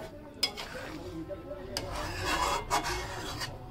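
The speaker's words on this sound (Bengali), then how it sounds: "নিয়ে ভালো করে নেড়ে মিশিয়ে নিচ্ছি তরকারির সাথে" Garam masala is stirred into mutton-fat ghugni curry in a pan, giving a close, steady scraping and rubbing of a spoon against the pan with a few sharper knocks.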